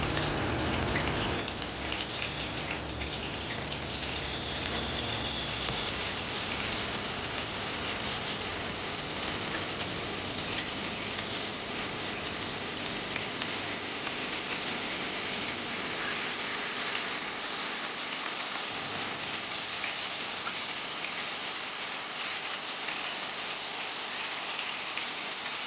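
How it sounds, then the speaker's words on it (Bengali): Battered lote fish frying in hot oil give a steady, dense sizzle that holds close and even throughout with no talking. "4টে বা 5টা মাছ আপনারা এভাবে ব্যাটারে চুবিয়ে চুবিয়ে গরম তেলে ছেড়ে দেবেন"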